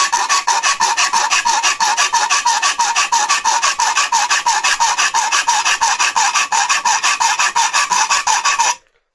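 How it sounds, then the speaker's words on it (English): Steady, rapid rasping strokes of a file cutting a hole in a plastic mains filter hub, loud and close, continuing evenly for several seconds before stopping abruptly. "So what I'm going to do is carry on filing that"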